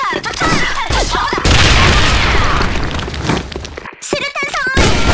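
A grenade blast in the Sudden Attack shooter game lands mid-match with a loud booming burst and sustained rumble, surrounded by gunfire and excited in-game voice callouts before and after.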